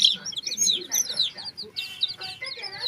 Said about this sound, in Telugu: అడవి కోడి ఒరిజినల్ పిల్లలు